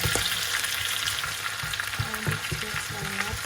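Ginataang langka with dilis and pork sizzles loudly in a pan while being stirred, with a continuous frying hiss and scraping stir strokes throughout and no talking.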